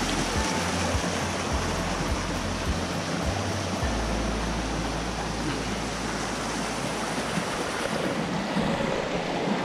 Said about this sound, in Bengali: এখানে জলের স্রোতটা মোটামুটি একটু বেশি, দেখতেই পাচ্ছেন কীভাবে গাছের তলা দিয়ে জলটা বেরোচ্ছে এবং এখান থেকে পড়ছে